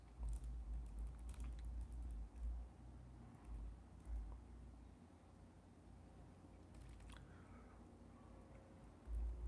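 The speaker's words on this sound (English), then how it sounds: "Let me type this." Quiet keyboard typing at a computer, with scattered soft key clicks in short bursts over a low room rumble, no talking.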